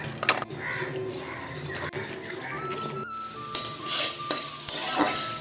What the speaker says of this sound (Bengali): তো আমি এখন সবজিগুলোকে সব ভেজে নিচ্ছি